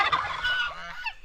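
Several turkeys gobble in a farmyard, a quick warbling burst of rattling calls close by, brief and loud with no talking.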